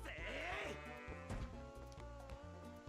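A loose goat in Twilight Princess on the Wii gives a wavering bleat, quiet under a rhythmic game music loop with a steady plodding beat.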